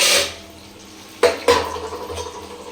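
A plate handled in a home kitchen while cooking greens and mashed chokha, with two sharp clinks close by followed by lighter rattling, no talking.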